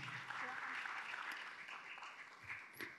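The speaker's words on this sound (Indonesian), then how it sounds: "Tepuk tangan ya." An audience at a city talks and discussion event applauds a speaker's introduction with steady, moderately distant clapping that fades toward the end. A voice speaks faintly over it.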